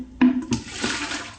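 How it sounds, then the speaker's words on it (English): Two cups of water poured into a bowl of batter, giving a splashing, gurgling pour that starts sharply and runs on steadily for over a second, close by. "now I'm going to pour in, this is 2 cups of water"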